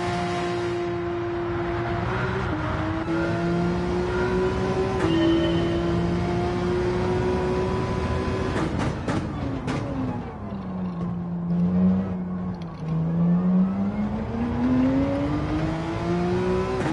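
A tuned Porsche race car engine in Gran Turismo 7 drones steadily for the whole stretch, its pitch sliding up and down as it shifts and accelerates. It stays loud and continuous, with no talk.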